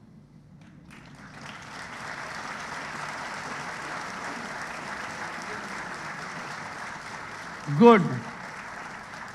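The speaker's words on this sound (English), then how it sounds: "I will appeal to the boys to clap more." Audience applause fills a hall at a foundation-day celebration of Hindu College, a steady clapping wash sustained for several seconds, with a brief voice breaking through near the end.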